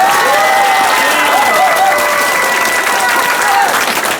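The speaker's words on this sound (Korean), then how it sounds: "박수 빨리 치세요" A large crowd of about two thousand people at an outdoor political gathering at Seoul Station applauds: loud, dense, steady clapping that fills the whole stretch, with voices and cheers mixed in.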